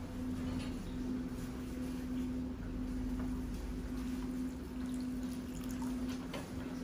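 Water trickles and pours steadily into a bowl, a little at a time, while preparing a vinegar and lime marinade; a continuous close liquid splash runs throughout with a low hum beneath and no talking.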